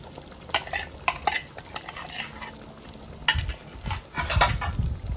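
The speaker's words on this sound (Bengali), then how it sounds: "এখন মাংসের সাথে ভালোভাবে মিশিয়ে নিব।" A spoon stirs mutton curry with whisked sour yogurt in a pan over a low gas flame, making irregular scraping and clinking strokes over a soft, steady sizzle, close up and with no talking.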